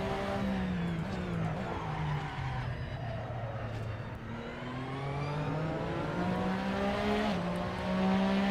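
A racing simulator car engine whines and revs as the car slides off the track, with rising and falling pitch, sustained tire squeal and skidding throughout.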